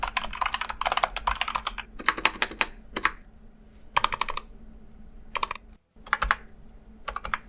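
Fast typing on a Razer BlackWidow V4 Pro mechanical keyboard: close, crisp key clacks in quick bursts separated by short pauses, with no talking.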